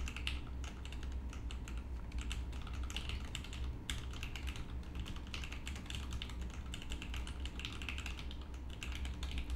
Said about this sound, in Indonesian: Dan sekarang akan gue coba ngetik.